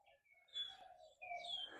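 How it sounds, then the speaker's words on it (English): Birds chirp and tweet outdoors over a morning lawn, several bright calls in short bursts, fairly close and clear against a quiet background with no talking. "Listen to this. See these birds?"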